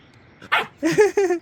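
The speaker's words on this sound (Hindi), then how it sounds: "मैं जैसे इसको पकड़ूंगा भौंकेगा मेरे पे।" A dog gives a short yip followed by two quick barks, close and loud, with no talking.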